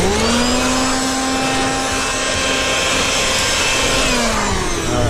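A leaf blower runs steadily at full roar, clearing a sugar ant nest out of gym equipment, its loud, continuous airy rush holding even for several seconds with no talking.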